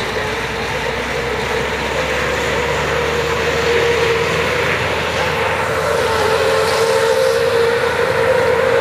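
A crashed truck trailer is towed away by three tow trucks, a steady loud roar of heavy diesel engines and rolling wheels filling the air without pause, close by, with no voices.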